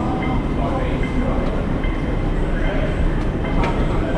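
An airport train rumbles steadily with a dense, continuous mechanical roar and faint rattling, heard from on board at close range.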